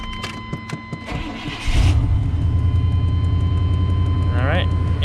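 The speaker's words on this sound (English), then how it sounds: "Let's start it up real quick." A 1993 Chevy Blazer cranks briefly, then its engine catches with a loud rumbling roar and settles into a steady, close idle; a faint whine rises near the end.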